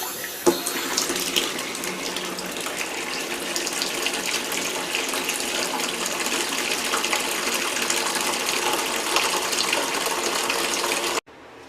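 Tap water gushes steadily into a bucket, a loud continuous rushing pour that runs unbroken for about eleven seconds before cutting off abruptly.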